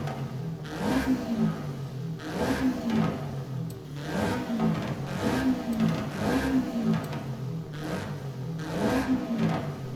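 A Subaru BRZ in the video game Forza Horizon 5 revs repeatedly, its engine climbing and falling in rhythmic bursts roughly every one and a half seconds, moderately loud with no talking.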